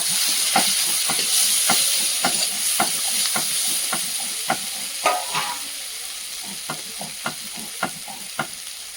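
Free-range chicken frying with ginger-garlic paste and slit green chillies, a loud continuous sizzle broken by a steady rhythm of spatula strokes scraping the pan, about two per second, with no talking.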